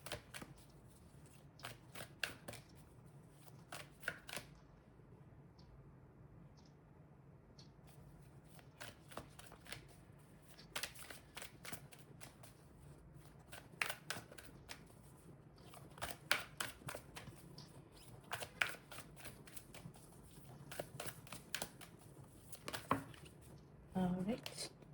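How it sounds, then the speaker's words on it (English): Tarot cards being shuffled and handled, with repeated bursts of crisp riffling and flicking close by, separated by short pauses over a low steady hum. "let's just draw the last card"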